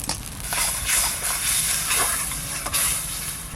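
Water in a cooking pot, heating for a Bengali hilsa fish curry with garden vegetables, boils with a steady close hiss and bubbling sizzle that continues without pause and carries no speech.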